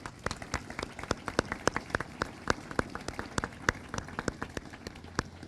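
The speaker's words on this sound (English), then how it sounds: "Please join me in giving them a well-deserved round of applause." Crowd applause at a military garrison change of command ceremony, honoring the color guard: dense, sustained clapping from a large audience with sharp individual claps standing out, steady throughout.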